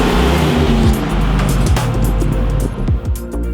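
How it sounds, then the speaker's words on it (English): A custom ECD Land Rover Defender 110 with an LS3 V8 and six-speed automatic drives past close by, its engine growling loudly over the rush of tyres, with the sound shifting as it moves. "Palisades is powered by our LS3 engine with 6-speed automatic transmission."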